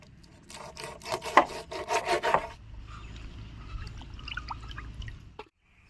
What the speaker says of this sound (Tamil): இப்போ மீனை ஆஞ்சிடலாம்